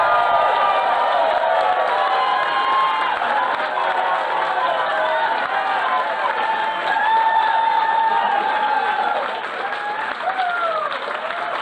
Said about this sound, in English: Huge cheer please for Amanda Scarpo.